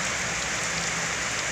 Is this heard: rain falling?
yes